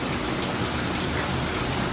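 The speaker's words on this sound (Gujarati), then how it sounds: "જબરદસ્ત વરસાદ પડી રહ્યો" Heavy rain pours steadily, a dense, constant hiss of drops with no voices.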